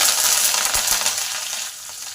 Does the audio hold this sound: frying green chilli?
yes